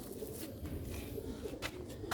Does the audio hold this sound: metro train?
no